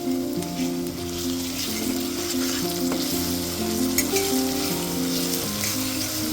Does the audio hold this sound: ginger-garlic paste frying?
yes